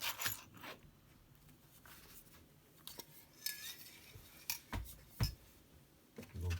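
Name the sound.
peeling interior stickers off a painted model car body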